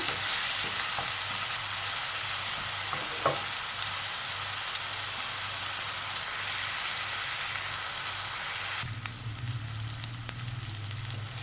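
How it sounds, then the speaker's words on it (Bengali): Ginger and garlic paste fries in a pan with a continuous crackling sizzle, close and even, with a slight shift in tone near the end as it is stirred. "দু থেকে 3 মিনিট একটু ভালো করে ভেজে নেব।"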